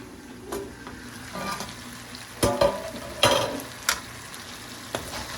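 Chicken masala curry being stirred in a pan, a soft sizzle underneath broken by several sharp scrapes and clanks of the spoon against the pan, about five distinct strokes.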